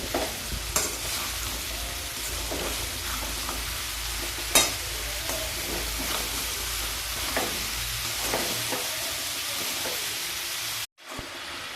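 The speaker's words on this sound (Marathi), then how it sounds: "आता आपण भोपळा टाकू आणि भोपळा पण चांगला परतून घेऊ" Pumpkin pieces stir-fried in a pan for a traditional dangar-style pumpkin sabzi make a steady close sizzle, broken by scraping stirs and one sharp knock midway. A brief dropout comes near the end, with no talking.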